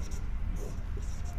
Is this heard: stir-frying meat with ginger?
no